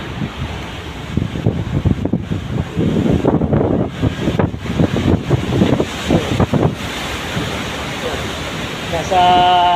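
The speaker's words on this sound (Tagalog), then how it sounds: "Malaking alon yan. Atlantic Ocean, South." Large swells on the South Atlantic Ocean surge and crash around a loaded vessel. A roaring, gusting rush of water and wind buffets the microphone as the wave noise rises and falls. A voice talks beneath it.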